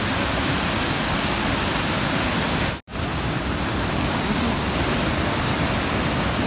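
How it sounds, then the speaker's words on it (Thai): A steady, dense rush of snowmelt waterfall at Trollstigen, Norway, broad and continuous, with one brief dropout of near silence partway through. "น้ำตก น้ำไหล น้ำลงจากเขาน้ำ"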